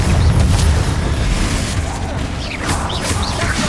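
A Confringo fire spell explodes in Hogwarts Legacy, a loud low boom with crashing, crackling debris that keeps rolling for several seconds, lightly thinning midway before swelling again.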